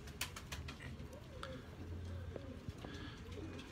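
Pigeons cooing on a rooftop, soft low repeated coos under faint background noise, with a few sharp clicks and flutters mixed in; fairly quiet and close.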